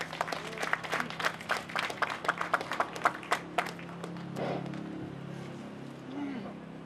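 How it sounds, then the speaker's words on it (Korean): Audience applause at a press conference, a burst of quick overlapping claps from a modest crowd over about four seconds before it fades into room murmur and light noise. "큰 박수 부탁드리겠습니다."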